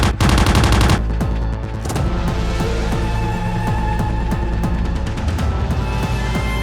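Warning shots of gunfire recorded near a border by a surveillance drone: a rapid automatic burst followed by a steady stream of loud, sharp shots over a continuous mechanical roar, with no voices.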